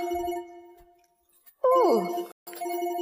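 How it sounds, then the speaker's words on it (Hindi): An incoming-call phone ringtone in a Hindi drama scene: steady electronic tones ring on, break off briefly into a sliding chirp, then resume at moderate loudness. "किसका फोन आ रहा है इस टाइम पे?"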